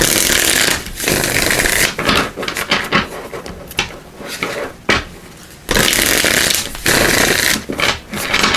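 Tarot cards are shuffled in quick bursts, a crisp riffling and rubbing noise close up, repeating in several rounds with short pauses between.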